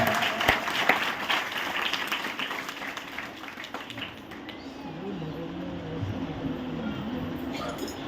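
A congregation at a Christian church service claps in a dense, rapid patter for the first few seconds. The clapping then thins beneath a voice that continues over a low murmur.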